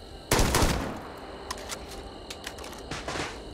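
Gunfire in the video game Starfield: a loud burst of rapid shots near the start, followed by a few fainter isolated shots and scattered bursts against a steady game ambience.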